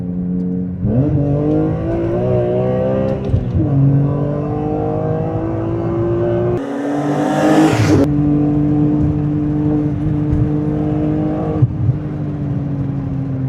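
A BMW E46 M3's engine drones steadily from inside the moving car, revs climbing and settling. A brief whooshing burst midway sounds like a gear change before the engine note holds again. No one speaks.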